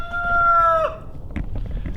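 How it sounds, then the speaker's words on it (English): A rooster crows loudly and close, a drawn-out call that ends abruptly, followed by softer clucking and scratchy farmyard noise. "Those are the freaking chickens that have been fucking up my sound recording"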